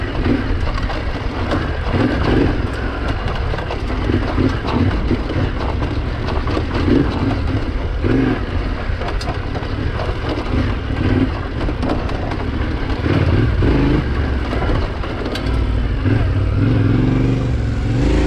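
A Yamaha Tenere 700 motorcycle rides dirt trails over braking bumps on Rampart Range, its engine a steady loud rumble mixed with wind buffeting and rattle throughout, close and continuous with no pauses.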